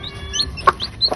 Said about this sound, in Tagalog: meron na naman siyang sisiw